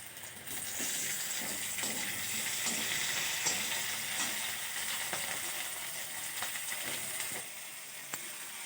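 Chopped tomatoes hitting hot oil in a frying pan with green chillies and onions, giving a steady, loud broadband sizzle with scattered crackles and pops throughout, easing slightly near the end.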